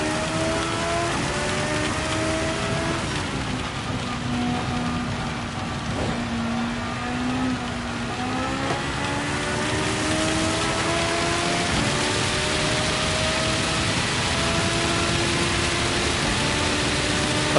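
Steady rain hisses across a Gran Turismo 7 race at Le Mans in a Suzuki VGT, loud and constant over the car's droning engine note as it shifts up and down through the gears.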